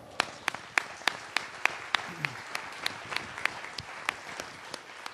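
Sparse clapping at a cities climate conference, individual sharp claps landing in a fairly regular rhythm, distinct and moderately close rather than a full roaring ovation.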